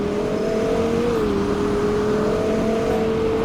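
A car engine in the Roblox Greenville driving game, fitted with dual oval-tip exhausts, holding a steady, loud hum that rises slightly in pitch, continuous and alone with no talk.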